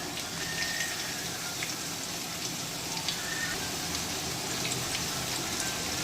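Tomatoes added to hot oil with ginger-garlic paste in a frying pan for a spicy mutton gravy, giving a steady, fairly loud rain-like sizzle and crackle throughout with no talking.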